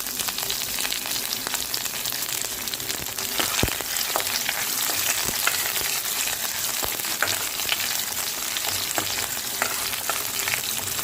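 Onions frying in hot oil for tomato charu, a dense continuous sizzle with occasional sharp pops and crackles throughout.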